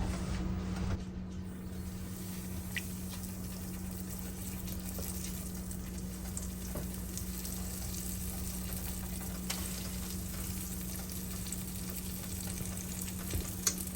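Pork chops frying in olive oil in a home kitchen pan, a steady, even sizzle and crackle that runs unbroken throughout at moderate level, with no talk.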